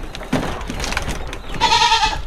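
Goats on a farm bleating close by, one short cry near the start and a longer wavering bleat toward the end, over rustling and light knocks.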